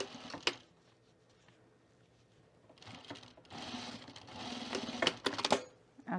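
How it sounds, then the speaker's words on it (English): A sewing machine stitches a boiled wool hedgehog toy, leaving a gap for stuffing, in short separate bursts: a quick whir near the start, then longer, louder runs of rapid mechanical stitching after a quiet pause. "I'm gonna sew for a little bit right here."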